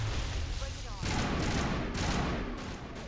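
Heavy gunfire in the video game Mass Effect, a dense, continuous rattle of shots and booms filling a short burst of battle noise, with a voice calling out briefly amid it.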